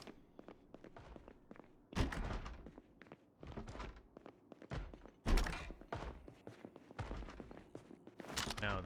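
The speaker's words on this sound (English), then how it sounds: "It's banging on a door now." In the Project Zomboid video game, a zombie bangs on a door with a string of irregular heavy thuds and knocks, some louder than others, close by.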